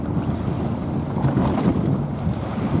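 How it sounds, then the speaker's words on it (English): Ocean waves at a coastal spot in New Zealand in the evening, a continuous rushing wash of surf mixed with wind buffeting the microphone, fairly loud and without voices. "Look at the waves."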